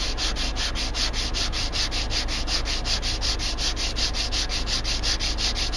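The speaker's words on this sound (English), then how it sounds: "I'm going to go ahead and lay it on the piece of sandpaper." A hand-carved wooden whistle is rubbed back and forth on sandpaper, making a loud, steady rasping scrape that repeats in an even rhythm, close up and continuous with no voices.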